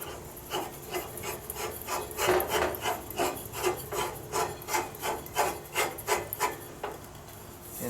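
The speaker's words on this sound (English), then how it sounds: "Screw in your gas can like so" A gas canister being screwed onto a Coleman PerfectFlow 2-in-1 camping stove and grill gives a quiet, steady run of rhythmic scraping, rasping twists, close by with no talk.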